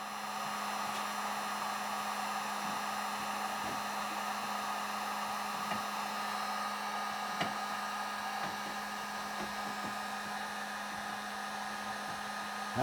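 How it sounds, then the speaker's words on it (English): A heat gun blows hot air in a steady, close hiss during paintless dent repair on a classic Jaguar XJS, with a few faint taps and clicks scattered through it. "Just turned off the heat gun, and I'm just babying the center out."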